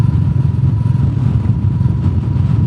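Royal Enfield Meteor 350 single-cylinder motorcycle engine fitted with a FuelX Pro, idling steadily with a smooth, even low rumble and faint ticking, close and continuous with no talk.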